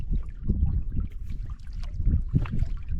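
Solo canoe paddling on the AuSable River, with low rhythmic water swishes and strokes repeating close by against light wind noise, no voices.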